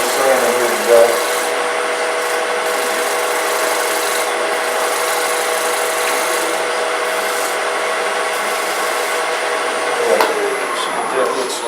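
Sanding a wooden cowboy hat: a continuous close rasping rub on wood, steady and loud with a faint mechanical whine underneath, pausing briefly near the start and again toward the end.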